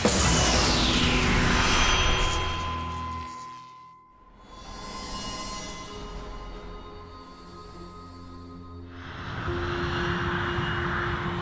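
A UPS cargo airplane climbs through the early summer morning sky over Kentucky, its engines producing a steady, loud roar that fades briefly and then swells again.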